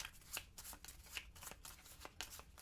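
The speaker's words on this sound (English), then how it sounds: "We're then going to shuffle the deck." A deck of cards is shuffled during a solo board game, with a quick run of crisp riffling bursts, close and quiet, and no talking.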